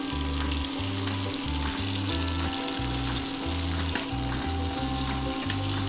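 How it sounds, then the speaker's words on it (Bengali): Asafoetida sizzles in melted butter in a pan while cooking begum paneer, a steady crackling fry with a low tonal hum running beneath it throughout. "বাটারটা গলে যাচ্ছে, এখন আমি এটার মধ্যে একটু হিং দেব।"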